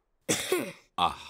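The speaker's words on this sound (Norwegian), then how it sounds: "Jeg tror jeg har fått hoste." A cartoon pig character gives a short cough or throat-clearing, a voiced burst followed by a second brief one, close and clear with no background.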